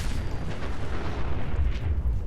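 Missile launcher explosion in the video game Fallout 4, a dense, continuous low rumbling roar that fills the whole stretch with no talking.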